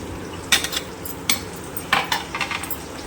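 A spoon scrapes and clinks against a cooking pot while stirring a spiced shrimp filling for stuffed pointed gourd, with a few sharp metallic knocks spaced over a soft background hiss.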